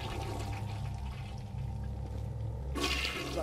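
A toilet flushes in the video game Bioshock Remastered, a loud close rushing gurgle of water that swells into a brighter burst of splashing near the end.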